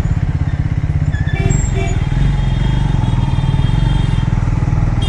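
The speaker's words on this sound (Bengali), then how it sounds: "Y so much traffic?" Busy road traffic dominated by motorcycle engines, with a Triumph Scrambler 400X among them, rumbles loudly and steadily up close, rattling and puttering continuously with faint background voices.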